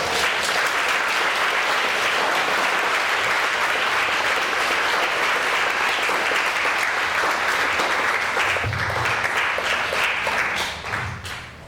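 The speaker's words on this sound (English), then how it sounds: "Let's all give Logan a round of applause, guys." A large audience gives speaker Logan Gates sustained, dense applause at a steady level for about ten seconds before it tapers off, with a few faint voices near the end.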